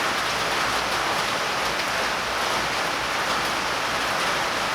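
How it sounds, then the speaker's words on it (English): Steady, even rain falls close by, a dense hiss of drops on surfaces with no talk or other sounds. "Now it's raining again"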